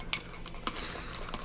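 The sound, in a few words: spoon stirring hot cocoa mix in a cup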